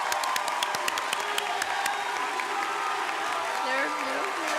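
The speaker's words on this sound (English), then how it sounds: "give a heartfelt applause to honor your parents, families, and loved ones who made your presence here possible" Graduates at a 2017 university Latinx graduation ceremony clap for their families, a dense steady applause with scattered cheers and whoops throughout, and voices talking over the crowd.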